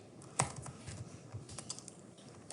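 Keys clattering on a computer keyboard in a run of quiet, irregular taps, one sharper keystroke near the start, heard close with no one talking.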